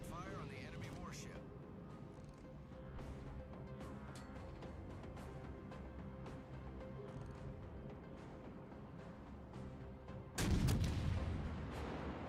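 Warship guns firing in World of Warships: Legends, a steady rumble of distant artillery with scattered sharp reports and a heavy boom near the end, under game voice callouts.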